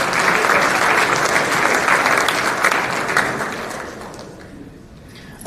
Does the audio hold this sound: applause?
yes